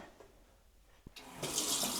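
Water runs from a newly connected tap in a village home, starting partway through as a strong, steady gush that fills the second half after a quiet start and a brief knock.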